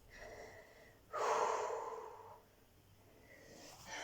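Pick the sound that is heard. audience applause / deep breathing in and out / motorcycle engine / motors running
deep breathing in and out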